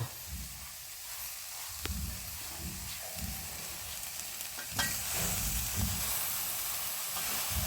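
Steady hiss of steam escaping from a pot of dal curry with tomato, with soft low stirring and clinking sounds underneath.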